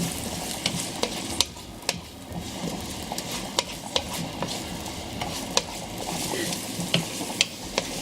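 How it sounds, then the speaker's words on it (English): Onions sauté in a hot pan with browning garlic, a steady soft sizzle broken by repeated sharp scraping clicks of a utensil stirring, close and moderately quiet, with no talking. "As the garlic is already starting to brown, I'm just gonna throw in my onions. So we want to saute these down really nicely."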